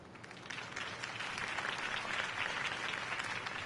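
A crowd applauds at a Harvey Dent campaign rally in the Batman Telltale video game, with dense, steady clapping filling the whole stretch at a moderate distance.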